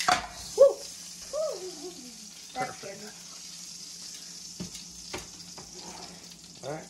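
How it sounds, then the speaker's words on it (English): Beaver meat sizzles in a hot pan with a soft, steady frying hiss, while people chatter and exclaim nearby and occasional clinks and stirring sounds break through. "All right, get this one seared."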